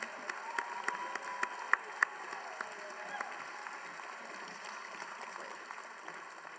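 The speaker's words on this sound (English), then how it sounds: "Let's give one large round of applause for our inductees." Audience at a college honors society induction ceremony giving the new inductees a round of applause, a soft, fairly distant patter of many hands with a few sharper claps standing out early on, fading gradually.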